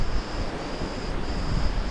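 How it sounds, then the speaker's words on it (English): Strong wind on the Crete coast roars as a steady broadband rush into the microphone, with gusty buffeting throughout and no voices. "it's really windy today"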